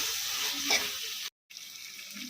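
Tomato curry with radish greens frying in a pan gives a steady close sizzle, with a brief stirring scrape and a short drop to silence before the hiss returns.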